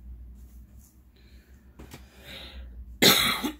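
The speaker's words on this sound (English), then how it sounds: "I still have that crazy cough." One sharp, loud cough bursts out close to the microphone at the end of a quiet stretch, with only faint rustling before it.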